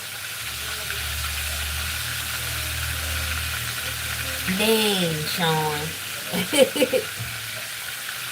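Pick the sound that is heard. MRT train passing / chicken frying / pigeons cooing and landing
chicken frying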